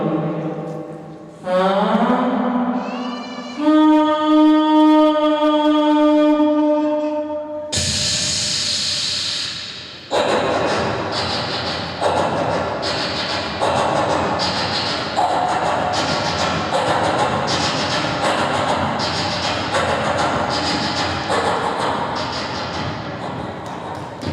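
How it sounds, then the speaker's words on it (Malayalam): Two trains pass each other. A loud, sustained horn-like tone bends upward and holds, then a burst of hiss gives way to a long, steady, rhythmic clatter of wheels and rushing noise at close range. "രണ്ട് ട്രെയിൻ തമ്മിൽ പാസ് കൊണ്ടുവന്ന ശബ്ദ വ്യത്യാസം"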